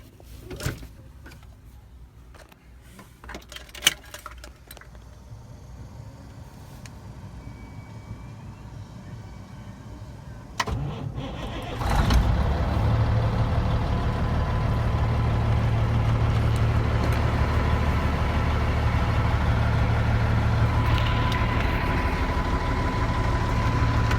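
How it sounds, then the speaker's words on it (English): A truck engine cranks and fires around the middle, then settles into a steady, loud diesel-style idle that holds to the end, with quieter mechanical clatter and knocks before the start. "So let's get the truck started and do that."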